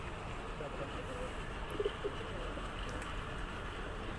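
Pigeons kept for rooftop pigeon flying sport give soft, faint cooing, a couple of brief low coos just under two seconds in, over quiet outdoor background hum.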